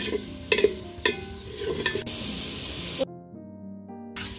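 A spice paste of cumin paste, chili powder, turmeric and salt fries and is stirred in a pan. Close hissing sizzle carries a few scraping strokes, then drops almost to silence near the end.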